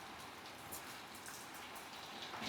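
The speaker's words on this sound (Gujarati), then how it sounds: "વરસાદ આવો કંઈક આવે છે." Moderate rain falls steadily in a village in Botad, a soft even hiss of drops on surfaces with slight gusts, heard alone and fairly quiet for a brief moment.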